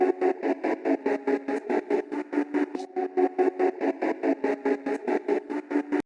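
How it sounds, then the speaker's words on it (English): A trap sample, cut up, pitched down and EQ'd, chopped by a fast-modulating noise gate into rapid, even stuttering pulses that repeat throughout at moderate level with no voice. "quick noise gate filter that's modulating very fast"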